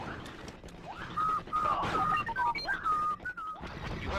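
Someone whistles a wavering melodic tune in Star Wars: Battlefront II (2005), the clear notes riding over loud battle noise and blaster fire.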